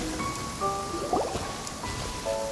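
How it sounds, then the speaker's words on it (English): Heavy downpour in Genshin Impact, a steady patter of rain and dripping under faint tonal music, moderately loud throughout. "Taking a stroll in the middle of a downpour certainly rouses the spirit."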